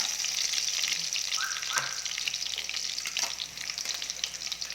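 Garlic frying in cooking oil, a steady crackling sizzle with scattered sharp pops and a couple of brief scraping stirs, close and continuous, no talk.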